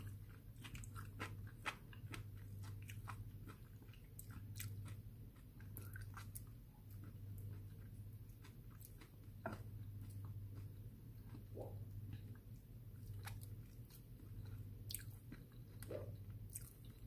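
Close, steady chewing of wakame seaweed and cod roe for ASMR, with soft wet crunches and squishy bites repeating throughout over a low background hum, no talking.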